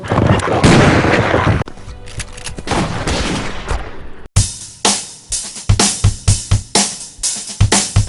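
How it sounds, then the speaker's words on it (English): Blank rounds fire from .45 caliber guns on a music video shoot, first a dense burst of rapid shots, then a quick series of sharp, loud individual reports in an uneven rhythm. "These were blanks that were being fired."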